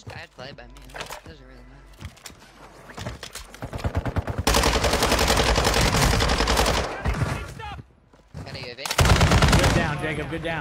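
Automatic gunfire from the video game Warzone comes in sparse shots at first, then long loud sustained bursts with a brief pause before another heavy burst, while players talk over it.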